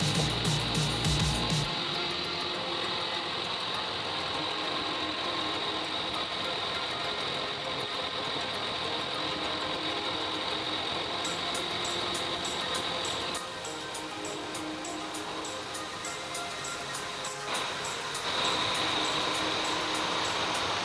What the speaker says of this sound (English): Sometimes it sounds like an engine knock, and sometimes it sounds more like a squeaky sound, or like something is rubbing.